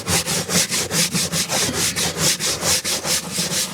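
A brush scrubbed with disinfectant over the floor of an old car, giving loud, close, rhythmic strokes of about three per second and keeping a steady back-and-forth pace.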